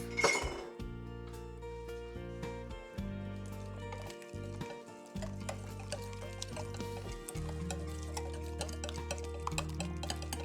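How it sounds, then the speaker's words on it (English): Whisk or fork mixing mashed banana and egg in a bowl for pancake batter, faint steady clinking and ticking against the dish, with low humming tones in the background and no talk. "add one large egg and mix it with a whisk or a fork until the mixture is smooth"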